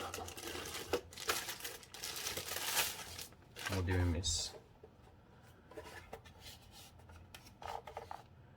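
Paper leaflets crinkle and rustle during the unboxing of a Superonline Wi-Fi 6 modem, with short bursts of crumpling and tearing-like handling, fairly faint and close, while someone talks quietly.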